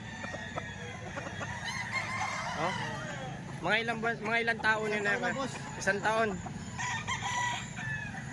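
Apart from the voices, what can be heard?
rooster crowing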